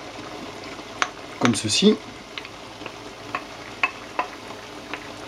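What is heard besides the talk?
mushrooms added to a sauté pan with stock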